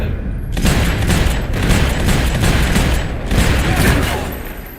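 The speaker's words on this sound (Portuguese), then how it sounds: "Ah, lá tiroteio aqui embaixo." Dense gunfire in a Max Payne 3 shootout, loud rapid overlapping shots and booms sustained throughout with brief dips in intensity.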